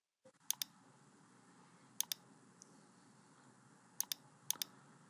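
Mouse clicks on a Windows 10 search box and result: four crisp click pairs, each a quick double tick, spaced a second or two apart, close and quiet over faint room hiss.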